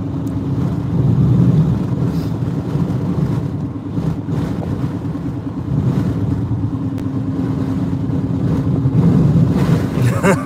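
Hurricane Lee's strong gusts buffet storm chasers, producing loud, continuous low roaring wind noise that swells and eases across the whole stretch.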